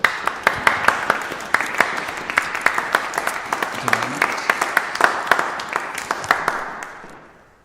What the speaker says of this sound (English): please can we give one big last round of applause